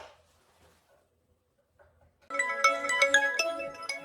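A phone ringtone starts abruptly after a near-silent pause and plays a bright, repeating electronic melody close by until the end.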